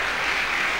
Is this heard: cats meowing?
no